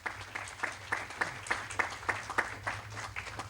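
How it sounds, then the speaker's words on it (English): At a 1999 bank scholarship press conference, the audience gives a fairly quiet round of applause, its claps landing in a loose, regular rhythm of distinct bursts. "That deserves a round of applause."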